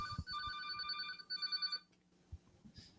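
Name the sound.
telephone ringing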